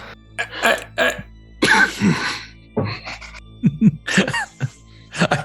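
Several short, harsh coughs and throat-clearing bursts come in quick irregular succession, close and loud, with brief pauses between them.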